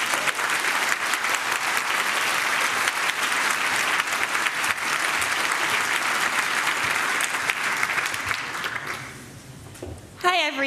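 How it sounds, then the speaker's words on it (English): A conference audience at a hacker congress applauds as a speaker is introduced, with sustained, even clapping from a large hall that gradually thins out before the room quiets. "please give us a warm round of applause for our next speaker, Natalie Silvanovich."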